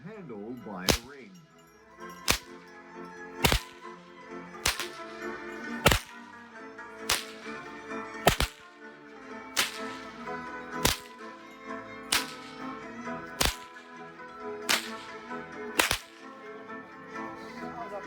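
A Hungarian horseman cracks a braided leather whip with a leather snapper, sharp loud cracks repeating at a steady pace of roughly one per second, over faint background murmur at an outdoor show.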